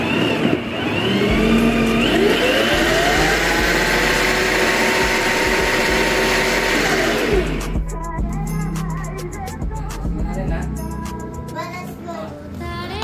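A 24V rechargeable ride-on toy car with an upgraded variable speed pedal drives steadily, its electric motor whining loud and close, then shifts to a rougher, clattering run over the last few seconds.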